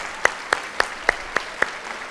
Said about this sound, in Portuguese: É digno de aplaudir mesmo.